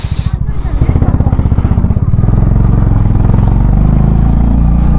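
A motorcycle ridden on the road toward Delo Park in North Bengal, its engine a loud, steady, rumbling drone that builds in the first seconds and then holds close and constant to the end.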